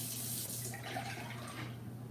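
Water for cooking rice pouring steadily into a pot, making a continuous hissing splash at an even level for the whole stretch with no talk over it.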